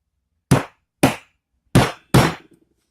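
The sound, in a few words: hammer striking a scrap-made metal weapon tip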